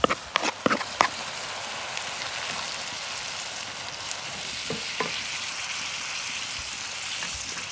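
Grated tomato tipped into frying onion sofrito for a lentil stew: a few quick spoon knocks and splats, then a steady crackling fry that carries on alone, close and moderately quiet.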